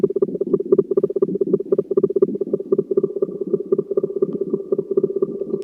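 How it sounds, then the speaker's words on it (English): A low, bubbling synthesizer tone pulses in rapid, uneven flutters, with a springy, wobbling reverberation on each burst; no voices. "And a lovely spring reverb as well."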